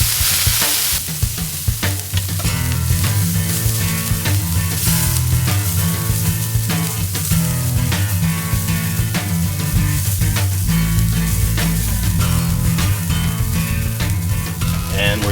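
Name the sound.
hash browns frying in peanut oil on Blackstone griddle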